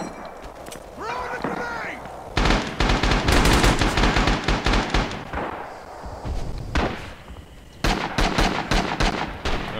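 Loud, dense bursts of rifle and machine-gun fire rip through a Red Orchestra 2 battle on Betio, with rolling heavy thuds and brief gaps between volleys; a voice calls out briefly at the start before the shooting dominates.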